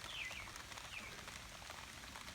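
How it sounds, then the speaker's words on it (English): Rain falls steadily outdoors near a corral with fresh concrete work, a continuous even hiss of drops with no break across the moment. "now I got some rain."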